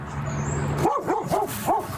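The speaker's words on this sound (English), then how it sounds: "There's a dog." A dog barks four times in quick succession outdoors, at moderate distance, over steady background rumble and faint traffic noise.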